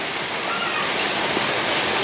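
Heavy rain falling outdoors as a dense, constant hiss and patter, loud and unbroken, with no voices over it.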